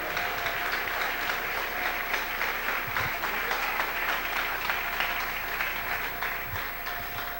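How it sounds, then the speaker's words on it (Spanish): A church congregation applauds the King during a Spanish-language worship service, with dense, continuous clapping and crowd noise that stays loud and even throughout and eases slightly at the close. "Denle un aplauso al Rey."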